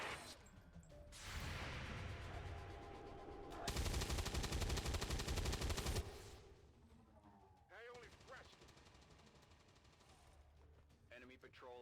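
Rapid gunfire in the XCOM 2 video game with the Long War of the Chosen mod rattles in dense loud bursts, followed by scattered mechanical clicks and game effects, with someone talking over parts of it.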